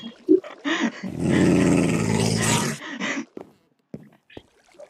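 A dog growls in the Minecraft video game, a sustained rumbling snarl lasting about two seconds, bracketed by shorter barks or grunts and some brief background sounds.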